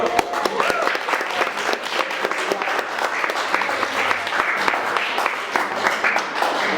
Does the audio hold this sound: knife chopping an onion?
no